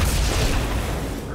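A grenade blast in the Halo 2 game, one deep heavy boom with a rumbling tail filling the brief moment, loud and close.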